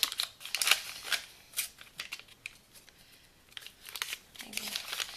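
Crinkling and tearing of a paper wrapper being peeled off a stick of butter, a series of close, irregular rustles and crackles, with a short faint voice near the end.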